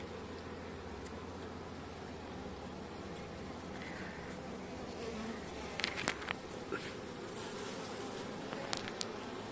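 Honeybees hum steadily in a dense, close buzz around a hive in late October, some carrying pollen, with a few louder passing buzzes and faint clicks.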